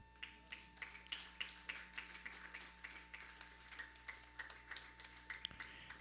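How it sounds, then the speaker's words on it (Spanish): A church congregation claps hands in a steady, even rhythm during a worship service, the claps soft and distant behind a low background hum, with no talking. "¿Cuántos le dan palmas al Señor?"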